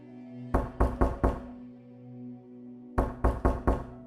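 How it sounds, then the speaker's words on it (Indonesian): Knuckles rap on a wooden cabin door aboard an old ship: a quick set of four knocks, a pause, then another four, over a low steady mechanical hum. "Dia ketuk-ketuk tuh pintunya."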